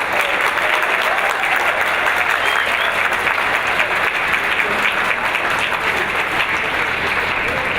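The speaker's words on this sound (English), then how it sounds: "I'm sure that round of applause were for the 3 people that I mentioned." Steady, full-room applause at a Talmudic University gala. The clapping is dense and even for several seconds, with no speech over it.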